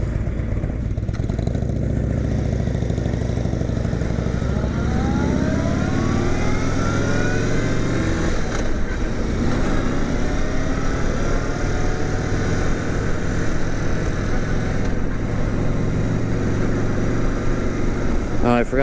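Sport touring motorcycle being ridden, its engine droning loud and close throughout with rising and falling revs as it accelerates and shifts, wind rush mixed in.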